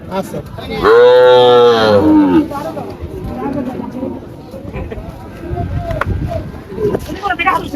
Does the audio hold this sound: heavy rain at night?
no